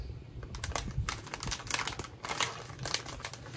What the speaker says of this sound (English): you probably can hear my lovely cat in the background playing with her bag